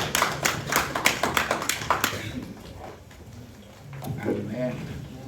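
Congregation in a church clapping in a quick steady rhythm for about two seconds, loud and close, then fading into murmured voices and a few spoken words.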